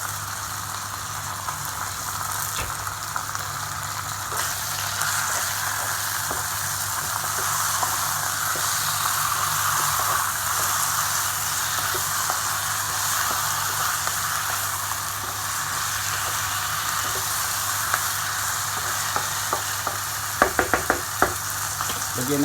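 Salmon belly sizzles in a hot pan with a constant close hiss and crackle, a few sharp knocks and utensil clicks near the end, and no voices.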